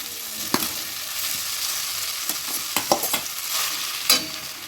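Grated yellow pumpkin sautéing in ghee over a slow flame for halwa, a steady close sizzle broken by several sharp scraping stir strokes, with no talking.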